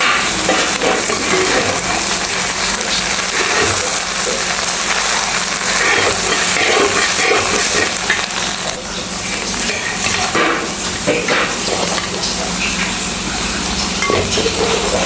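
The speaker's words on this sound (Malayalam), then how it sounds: "സോയാബീൻ നമ്മൾ ഇട്ടിട്ടുണ്ട്. നമുക്കത് പതിയെ ഇളക്കി കൊടുക്കാം." Soybeans fry with spices in a hot pan for pickle, giving a loud, continuous close sizzle that keeps going while they are slowly stirred.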